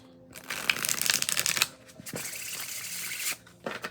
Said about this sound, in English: There's just that meditative feeling about shuffling.